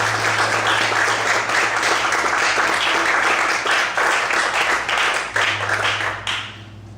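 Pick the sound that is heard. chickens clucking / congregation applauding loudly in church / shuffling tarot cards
congregation applauding loudly in church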